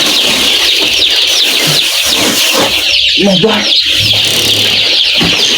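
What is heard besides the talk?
chicks chirping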